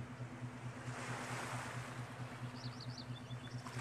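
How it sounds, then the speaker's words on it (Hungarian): Sea waves wash steadily against a shore in a continuous, broadband roar with a low, even hum running underneath, calm and moderately distant. "Nézd meg a tenger kicsapódó hullámait."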